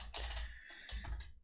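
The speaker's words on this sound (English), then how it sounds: "Sorry, my typing is not the greatest today." Quick bursts of typing on a computer keyboard, close and soft, with a short pause between two flurries of clicking keys.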